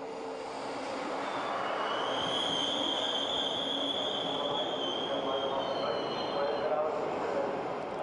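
V180 six-axle diesel locomotive with a train on a German line, a steady rumbling drone with a high squealing tone from the wheels, fairly close and constant.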